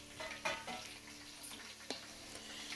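Sliced onions, green chillies, curry leaves and ginger sizzle in hot oil in a pan, with a steady frying hiss broken by several scraping stirs, close and fairly quiet.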